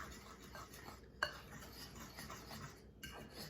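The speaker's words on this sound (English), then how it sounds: "you just want to stir it up until it gets all that flour mixed in" Scone dough made with flour and yogurt is stirred in a bowl, giving faint scraping and rubbing with one clear clink of the spoon, close by and without talking.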